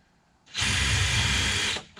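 A power drill whirs loudly for just over a second while driving a screw, starting abruptly and winding down, close by with no voices.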